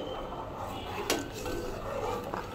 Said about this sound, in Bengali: এটাকে অনবরত একটা হাতা দিয়ে নাড়তে হবে